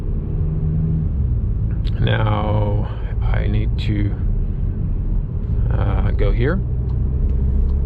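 A Škoda Superb Combi drives at night, its steady low road and engine rumble continuing under a man's speech.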